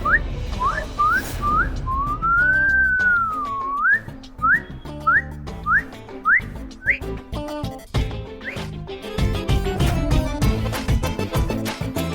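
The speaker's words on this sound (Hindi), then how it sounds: "अब सुंदर नारी को देखकर लड़कों के मुंह से सीटी निकल जाती है" A man gives a string of short rising wolf whistles at a woman, then one long wavering whistle and more quick upward whistles, loud and close over background music.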